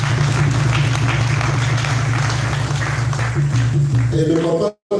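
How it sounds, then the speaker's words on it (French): A church congregation at a tabernacle service applauds over a steady low hum, clapping evenly with a voice and crowd noise mixed in, before the sound cuts out abruptly near the end. "On peut les applaudir."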